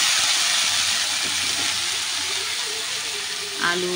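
Kabuli chickpeas stirred and frying in a spiced pan, making a loud continuous sizzle and hiss throughout, with faint stirring and a voice talking underneath.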